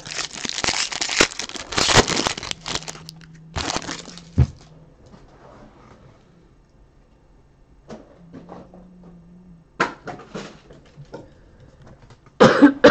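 A man with a bad cough hacks in several harsh, close bursts, separated by quiet pauses and faint rustling, with a last loud fit at the end.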